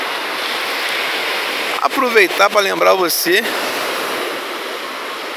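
Ocean surf breaking at Praia do Forte beach in Cabo Frio, a steady loud wash of waves throughout, with someone talking briefly over it midway.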